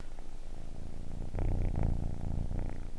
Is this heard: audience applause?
no